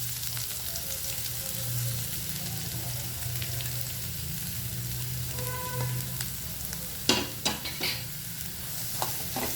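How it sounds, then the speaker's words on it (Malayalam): Shredded cabbage tossed into a hot pan with curry leaves for Kerala-style thoran, stir-frying over high flame with a steady low sizzle, a few sharp scraping clatters of the spatula near the end, and no talking. "ഇതിലേക്ക് നമ്മുടെ ക്യാബേജ് ചേർത്ത് കൊടുക്കുക."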